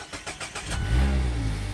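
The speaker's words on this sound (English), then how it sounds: "very sort of typical exhaust sound of your MX-5s" A Mazda MX-5 Miata cranks over with rapid starter pulses, then its engine catches and settles into a deep, throaty exhaust idle, close and loud.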